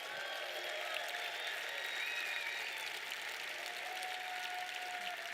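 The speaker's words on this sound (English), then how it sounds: "Clap it up for Grant for putting this together." A crowd applauds Grant, the organiser of a large personal-branding event, with dense steady clapping that holds for about five seconds at a moderate, slightly distant level.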